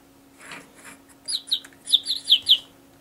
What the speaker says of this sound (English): Push the car down and he squeaks.